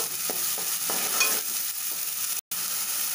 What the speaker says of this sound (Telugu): కొంచెం కరివేపాకు. కొంచెం బాగా వేగాలి,